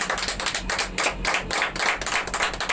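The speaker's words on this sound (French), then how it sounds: "Applaudissons pour le Seigneur" A church congregation at an evangelistic gathering claps together in a fast, rhythmic pattern, close and fairly loud, with regular bursts of hand claps and no talking.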